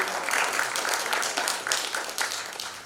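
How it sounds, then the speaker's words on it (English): An audience applauds a business forum panel on innovation, a dense, steady wash of many hands clapping that stays loud for the whole stretch with no talk over it. "Another round of applause, please."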